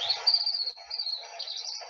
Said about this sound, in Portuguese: deu para ouvir pelo menos os piadinhos dos pássaros